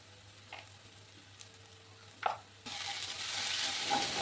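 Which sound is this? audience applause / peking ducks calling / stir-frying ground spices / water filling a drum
stir-frying ground spices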